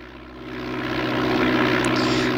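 A propeller aircraft engine in MS Flight Simulator 4 drones loud and steady with a strong harmonic hum, its pitch and roar shifting slightly as the throttle is eased back.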